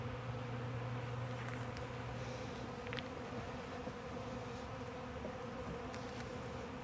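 A steady, dense buzz of many honeybees around an open hive in early March fills the air, with a few brief louder buzzes close by.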